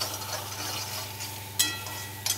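Raw ground masala paste being sautéed in oil in a kadhai, giving a soft steady sizzle with a few sharp scraping stir strokes near the end, close by and without speech.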